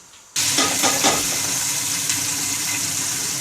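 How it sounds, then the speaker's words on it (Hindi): Chopped onions hit hot cooking oil in a pressure cooker with a sudden loud sizzle, then fry in a steady crackling hiss with brief stirring scrapes. "प्याज हमने डाल दिए हैं, थोड़ी देर के लिए इसको हम भून लेंगे।"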